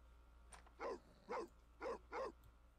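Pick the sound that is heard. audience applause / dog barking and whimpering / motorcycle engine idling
dog barking and whimpering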